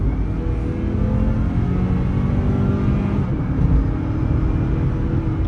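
A 2024 Mazda CX-50 pulls hard in sport mode, its engine droning in a steady, loud in-cabin rumble with a faint rise in pitch over several seconds, no voices.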